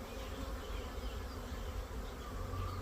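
Honey bees buzz steadily around frames in an eight-frame hive box during an inspection, a dense, continuous droning hum close to the microphone with no voices.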